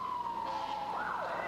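A police car siren sweeps past in a read-aloud story, one loud wailing tone that falls in pitch as it goes by, heard over a constant background hiss.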